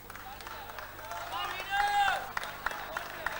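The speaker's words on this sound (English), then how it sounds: "The crowd loving it as Renown keeps possession" Crowd noise at a football match between Army SC and Renown SC in the Dialog Champions League, a broad murmur with a few claps and a brief whistle, swelling slightly midway, heard under steady commentary.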